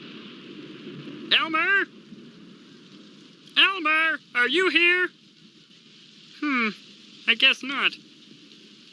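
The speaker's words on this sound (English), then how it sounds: "I wish this rain would stop." Steady rain sound effect in a church puppet show, a constant hiss running beneath a puppet's voice, which calls out in several short phrases.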